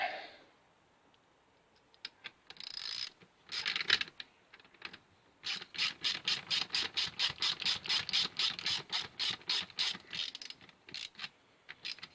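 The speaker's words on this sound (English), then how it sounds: "So we got to use our socket here again." A socket wrench ratchets on the carburetor of an old barn-find chainsaw, with a few scattered clicks and then a long run of quick, even ratcheting clicks, close and fairly quiet.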